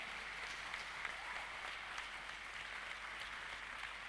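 Audience applause at a Teachers' Day outing for Akshara International School in Hyderabad, a steady dense wash of clapping from many hands that holds evenly for about four seconds, with no voices over it.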